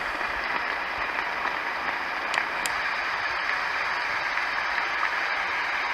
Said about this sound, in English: A little lighter sounding rain.